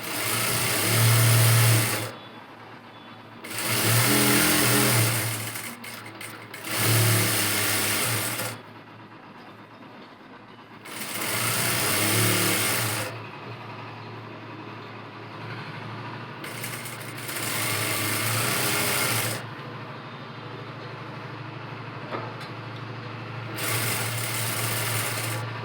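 A sewing machine stitching a folded hem runs in repeated bursts of a few seconds each, with its steady motor whir starting and stopping, separated by quieter pauses of near silence.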